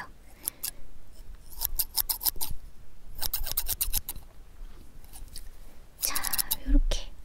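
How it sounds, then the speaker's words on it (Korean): Scissors snipping close to the microphone in an ear-repair-shop ASMR roleplay, with rapid clusters of crisp metallic snips separated by short pauses and soft whispered speech between them. "가위예요."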